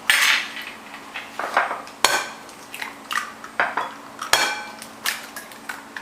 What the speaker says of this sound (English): I am just going to put 4 eggs in a bowl and beat them with some milk and cream